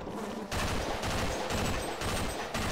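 Rapid gunfire from the co-op shooter Sven Co-op, playing the Half-Life campaign, hammers loud and close in dense bursts with brief gaps between volleys.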